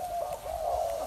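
A spotted dove gives a soft, steady, mid-pitched coo at close range, sustained and slightly wavering, with no voices present.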